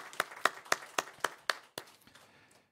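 At a Korean church's 79th anniversary Sunday service, the congregation claps: about seven quiet, evenly spaced sharp claps in a steady rhythm that loosen and fade out near the end.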